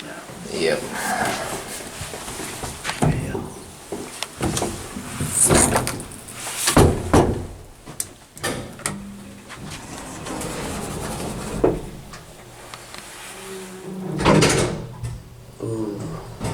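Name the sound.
Atlas hydraulic elevator swing door closing with door restrictor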